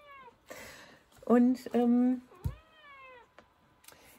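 A house cat meows several times, with drawn-out, tonal calls up close, while a person speaks briefly in between.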